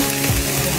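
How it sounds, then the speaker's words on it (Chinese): Meat-wrapped glutinous rice street food fries in a pan, giving a brief, close, steady sizzle and crackle with no talking. "这是要把六个面都煎熟就好了哈"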